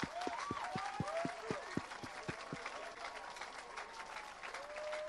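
A church audience claps for Jesus, a broad steady wash of applause with a few voices whooping over it, tapering slightly toward the end.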